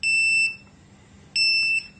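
A CO2 meter alarm signalling a dangerous carbon dioxide level gives two loud, shrill electronic beeps about a second apart, each lasting roughly half a second, with near silence between.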